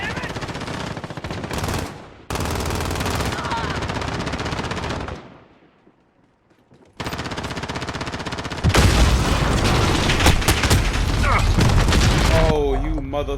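A sentry gun in a Call of Duty video game fires long, loud, continuous automatic bursts, broken by a brief near-silent pause, with booms and mechanical game clatter mixed in.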